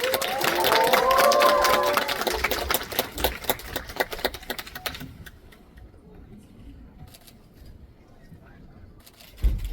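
Audience applause welcomes director Oh Seung-wook and actor Kim Nam-gil onstage at a special guest talk for the film Revolver, a loud, dense wash of clapping for about five seconds before dying away to a quieter room.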